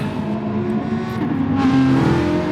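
Race car engine in GT Sport at Interlagos, steady loud engine drone with rising revs as the car drifts on worn tyres, continuous and close throughout.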